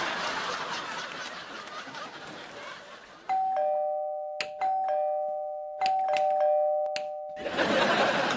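A doorbell chimes twice in a sustained two-tone ding-dong at a house door during a comedy scene, clear and loud after a stretch of busy background noise, followed by a short bright tone and then more noise.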